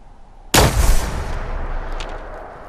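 A single loud, close gunshot in the video game Fallout 4 cracks out, then rings off into a long fading echo; no one speaks.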